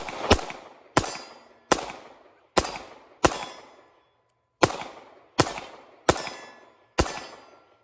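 Smith & Wesson Bodyguard .380 pocket pistol fired at steel plates at a medium pace, nine sharp close shots with metallic ringing in two groups separated by a short pause.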